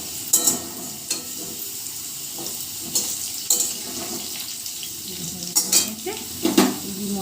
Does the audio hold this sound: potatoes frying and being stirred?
yes